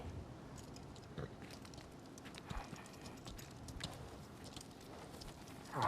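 Horse hooves clip-clop on the ground in a TV drama episode, a sparse, faint series of hoof strikes mixed with low ambient noise, without talk.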